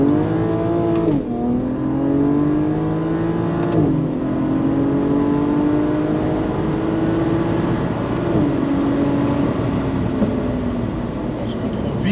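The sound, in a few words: BMW 335is N54 DKG accelerating hard, sport mode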